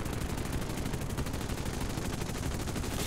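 Defensive gunners on a Russian PBY-5A Catalina flying boat fire in War Thunder, a rapid continuous machine-gun rattle with evenly spaced shots, loud and unbroken throughout.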